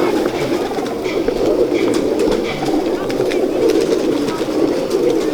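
Soft, continuous cooing of several pigeons close by, a layered throaty murmur with faint chirps and light rustling mixed in.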